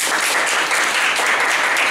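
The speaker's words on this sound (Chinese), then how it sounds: "那我们就用掌声来欢迎张书生老师" An audience applauds to welcome a speaker at a lecture, a dense, even crackle of many hands clapping nearby, sustained at steady loudness for about two seconds.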